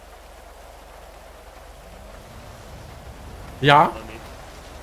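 Rain falling steadily in GTA 5 roleplay, a constant soft hiss under a brief spoken word near the end.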